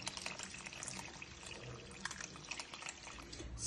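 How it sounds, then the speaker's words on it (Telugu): Tamarind water is poured into a pot of sambar, making a soft, close splashing trickle that runs steadily throughout. "సో ఇప్పుడు చింతపండు వాటర్ పోసేసాం కదా"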